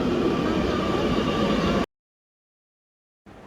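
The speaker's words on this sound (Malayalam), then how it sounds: "ഇതാണ് മെട്രോ, കണ്ടോ?" Loud, steady rumble of a metro train running close by cuts off abruptly into silence, then picks up again near the end.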